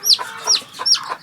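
A three-legged chick clucking close by, about four short, bright calls in quick succession with brief pauses between them.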